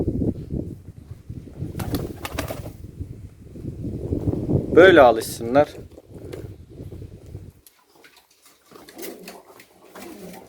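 Angry pigeons coo close by, a louder run of calls rising near the middle, while someone talks over much of it and soft rustling follows in a quieter stretch.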